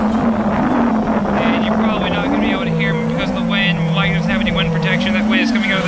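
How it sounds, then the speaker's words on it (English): Wind from the north buffets the microphone outdoors in a loud, constant rumble, with a drone-like engine sound running underneath throughout. "Again, I apologize for the wind."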